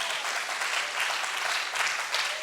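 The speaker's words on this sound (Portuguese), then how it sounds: "E você pode aplaudir o Senhor Jesus." Steady church applause from a congregation praising Jesus, a dense, even wash of many hands clapping that continues throughout without a break.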